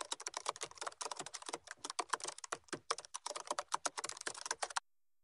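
Fast, crisp keystrokes on a computer keyboard while a name is entered in Bengali into an online birth registration form, a close, uneven run of clicks with brief pauses that ends abruptly.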